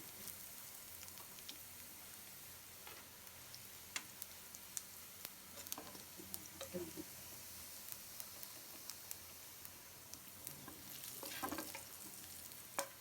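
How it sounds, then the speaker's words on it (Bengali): White and black cumin seeds fry in hot oil, a soft steady sizzle broken by scattered small pops and ticks, close by and quiet, with no voices. "এখানে আমি সাদা জিরে আর কালো জিরে একসাথে দিয়ে দিলাম।"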